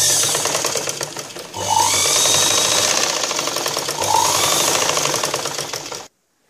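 An electric sewing machine stitching a cross-cut blouse in two rapid mechanical bursts, close and loud, with a brief pause between runs and an abrupt stop at the end.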